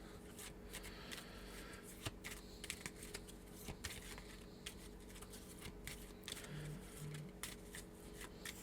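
Mythos of Valor terrain cards being shuffled by hand, a steady run of quick riffling and flicking close by, fairly faint.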